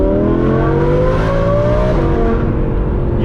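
An Audi R8 V10 with a Valvetronic exhaust howls steadily at high revs, a loud, close, continuous engine wail with a slight pitch shift midway and no talking.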